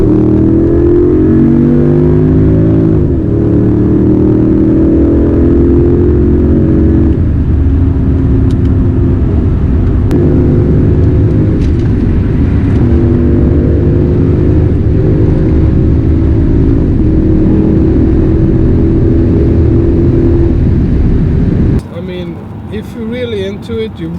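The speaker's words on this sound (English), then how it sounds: "I pushed the car a little bit, and oh my god, is this thing fast" A Mercedes-AMG company car accelerates hard for about twenty seconds, its engine a loud, close rumbling drone climbing through several gear pulls with brief dips at the shifts, then cutting off abruptly near the end.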